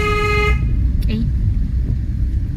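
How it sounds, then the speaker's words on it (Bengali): A car horn gives one loud, close toot at the start on a rainy street, then stops, leaving a low traffic rumble behind. "হর্ন দিয়েছে আর বেচারা ভয় পেয়ে গেছে।"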